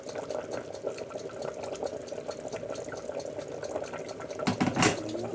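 Bottled water poured into a cooking pot that still holds some gravy, a steady close liquid trickle that swells into a louder splashing gush near the end, with no talk.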